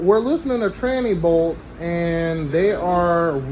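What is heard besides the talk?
None of the usual background noises is heard.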